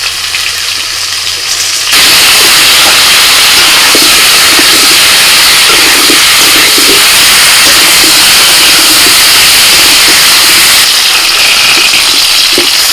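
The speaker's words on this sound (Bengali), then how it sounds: "আলু ভাজা হয়ে গেছে তুলে নিচ্ছি" Potatoes seasoned with turmeric and salt fry in oil in a pan, giving a loud, steady hissing sizzle that runs nearly continuously with faint crackles underneath.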